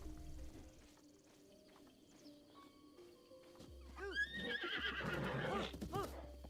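A wild horse in Breath of the Wild gives a loud, shaky neigh and whinny after a quiet stretch, with snorts and hoof clatter mixed in toward the end.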